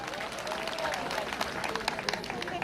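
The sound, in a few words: applause for Mr Ntwara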